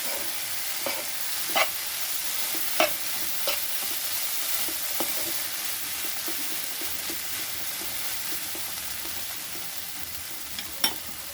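A spoon stirs a ridge gourd, potato and poppy seed curry in a pan after raw oil is sprinkled over it. The steady sizzle is punctuated by sharp, irregular scrapes and clinks of the spoon against the metal.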